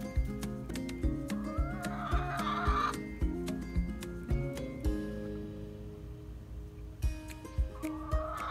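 Backyard chickens on a hot summer day cluck steadily and close by, with repeated short pulsing clucks and occasional higher drawn-out calls, and no talking.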